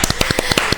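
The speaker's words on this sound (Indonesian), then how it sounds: "Tepuk tangan dulu." A few podcast guests clap together in a short burst of quick, sharp, evenly spaced claps, close and fairly loud, with no talking.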